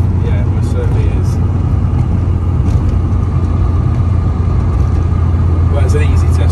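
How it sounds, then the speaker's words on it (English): A K-swapped Mitsubishi Colt CZT drives on wet roads on a miserable day, its engine and tyre noise a steady, close rumble throughout with no clear breaks. "It's an easy test drive because obviously this car hasn't really moved in 12 months."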